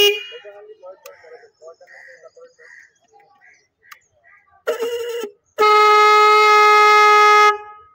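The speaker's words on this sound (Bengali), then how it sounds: "দু রকমের হর্ন আছে" A second-hand motorcycle's horn, which has two horn types, sounds twice in a bike showroom near Tollygunge, Kolkata: first a short blast, then a longer loud one, after some quiet background chatter.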